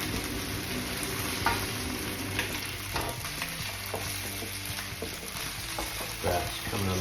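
Softened onions and garlic-ginger paste sizzle in an aluminium pan for a restaurant-style king prawn dhansak, a constant close frying hiss broken by repeated scraping stirs of a utensil.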